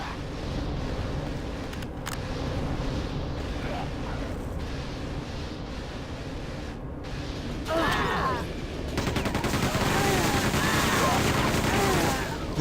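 Continuous weapon fire from the Xbox 360 version of Quake 2 rattles throughout, rising into louder sustained bursts toward the end, while someone talks over it.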